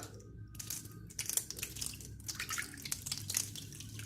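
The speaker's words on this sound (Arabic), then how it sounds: "غادي ناخذ هاد القالب هذا السكر غنحطوه هنا، وغادي نكب عليه هاد الماء هذا بحال هكا" Water is poured over sugar in a pot, a Moroccan cocotte, to make homemade honey. It makes a quiet, steady trickling with a faint crackly texture throughout.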